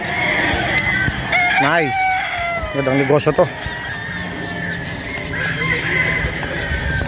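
Gamecock brood stag roosters crow loudly nearby, two or three calls in quick succession, with clucking and someone talking over the farmyard background.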